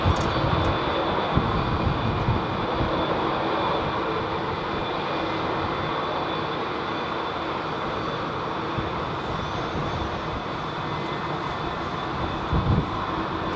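A departing Airbus A380 at London Heathrow roars loud and steady through the whole stretch, a broad, continuous jet engine rumble with no voices over it.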